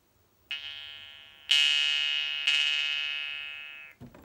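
A jaw harp plays a bright, buzzing drone in three sustained plucked notes, each fading slowly before the next pluck, close and clear with no talk.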